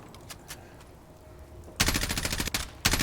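XM4 rifle fire in a modded Fallout 4, a loud rapid automatic burst that chatters for about a second, breaks off briefly, then resumes, following a quieter stretch with a few faint clicks.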